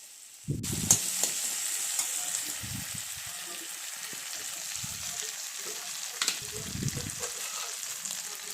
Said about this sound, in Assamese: এতিয়া লৰাই দিছোঁ অকণমান মছলা আৰু আলুখিনি।